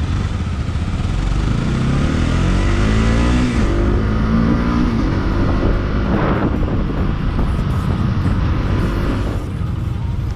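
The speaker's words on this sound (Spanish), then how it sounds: "La revolucionas hasta pone las 10 y no sientes tanta la vibración como en otras motos" Bajaj Pulsar 200 NS motorcycle engine revving up high, a loud, steady close-up roar with pitch swells and wind buffeting on the microphone throughout.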